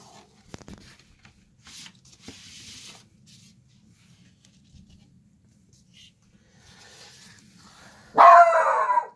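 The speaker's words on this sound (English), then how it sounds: "Oh, my dog is barking at something." Dog barking indoors, a sudden loud burst of barks near the end after a long quiet stretch of faint rustling and handling noises.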